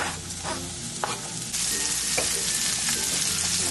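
Onions frying in butter in a pan, a continuous close sizzle with occasional stirring scrapes and clicks, growing louder partway through, no talking.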